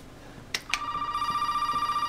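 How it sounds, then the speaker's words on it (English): A telephone rings in the horror game Resident Evil VII Biohazard, starting with a couple of sharp clicks and then settling into a steady, continuous electronic trill that stays loud and alone. "Don't answer the phone."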